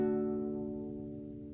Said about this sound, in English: remove my middle finger from the fretboard, strum, and then add my middle finger back